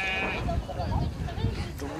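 Sheep bleating in Merak, Tashigang in eastern Bhutan, where households keep a few sheep for wool; the bleats are wavering and fairly close, mixed with steady background talk.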